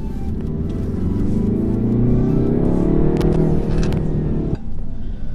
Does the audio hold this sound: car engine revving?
yes